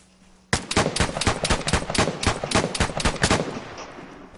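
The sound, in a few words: gunfire from a video game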